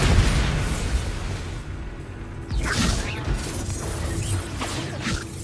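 A Bombarda spell explodes in the video game Hogwarts Legacy, a booming blast with crashing debris over battle noise and voices.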